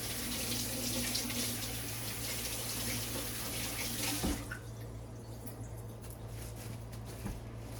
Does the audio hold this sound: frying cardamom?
no